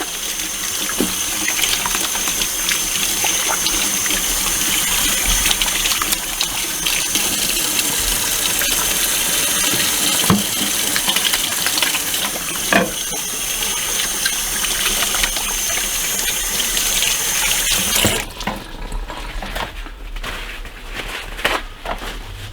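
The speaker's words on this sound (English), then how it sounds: "So now what I want to do is rinse my hands real fast." A kitchen tap runs hard while hands are rinsed under it, a steady close gushing stream for most of the stretch before it drops to a quieter splashing near the end.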